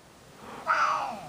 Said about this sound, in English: if you heard a little meow there, it was the cat meowing.